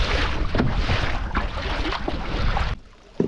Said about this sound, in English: A little bit wavy out here still, a little windy.